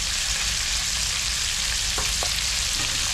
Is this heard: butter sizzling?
yes